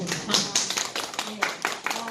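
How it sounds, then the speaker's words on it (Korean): A small group claps after a mock lecture in a classroom-style session, scattered claps close by, with a voice talking over them. "선생님 박수"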